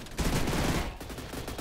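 Rapid automatic AA-12 shotgun blasts in a shooter video game, a loud close burst of repeated shots that thins into scattered quieter firing, with no talking.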